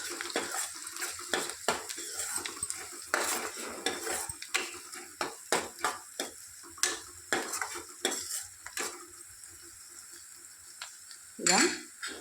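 A spoon stirs golden fried onions with turmeric in a pan, giving a steady run of scraping, clinking strokes against the metal over a soft sizzle, with a louder clatter near the end.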